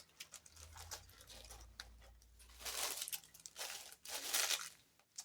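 A small decorative gift bag of craft treats gets handled up close, giving bursts of crisp crinkling and rustling paper that swell and fade in uneven waves, quiet overall, with no talking.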